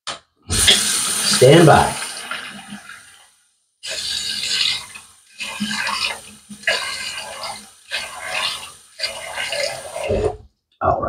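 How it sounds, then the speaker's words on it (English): Tap water runs into a sink in bursts while a face is wetted before a straight-razor shave, loud and close, broken by short pauses; a brief word is spoken. "let me just wet the face, wet the runway, heat up the blade"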